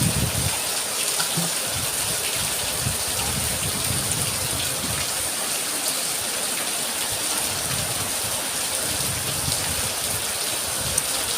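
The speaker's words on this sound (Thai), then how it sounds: "ทางสวรรค์เขตฝนตกเด้อ วันนี้ฝนตก" Steady rain falling outdoors under an overcast sky, a continuous dense patter and hiss with no voices, evenly loud throughout.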